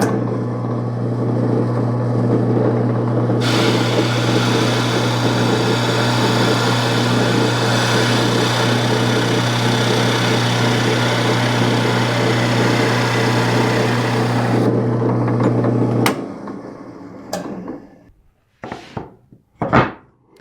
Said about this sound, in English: I also want to drill a 3/4 inch finger hole in it so it doesn't get stuck in the opening.